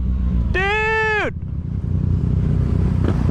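A 2014 Yamaha FZ-09 motorcycle produces a steady low engine rumble while being ridden, with a short rising and falling tonal whine cutting over it near the start.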